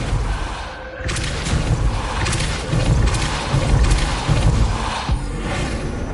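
In the video game Hogwarts Legacy, the Depulso spell is cast after a short quiet beat, then a loud burst of booming, crackling magic impacts and rumbling thuds, with a final thump near the end.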